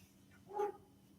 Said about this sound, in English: My dog is going mayhem